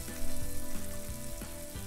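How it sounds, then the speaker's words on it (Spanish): Onion and zucchini fry in a pan over medium heat, a steady close sizzle with a few soft scrapes of stirring throughout. "Y vamos a cocinar ahora la cebolla con el calabacín."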